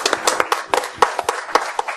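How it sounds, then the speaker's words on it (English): Conference crowd at a BSides security event clapping in a brief, uneven burst of close, distinct hand claps, loud and fairly sparse rather than a dense roar. "let's give everybody a round of applause."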